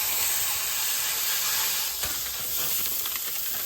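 Burger meatball smashed and sizzling on a cast iron pan, a loud steady hiss with a brief scrape partway through, no voices.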